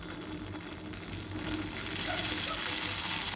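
Sweet white paniyaram batter poured into the wells of a paniyaram pan sizzles in ghee over medium heat, a steady hiss that swells louder partway through and carries on alone.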